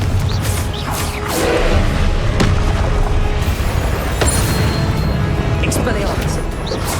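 A Confringo blasting spell detonates in Hogwarts Legacy, a loud booming explosion with whooshing and crashing debris that rolls on for several seconds, with a voice calling out over the blast.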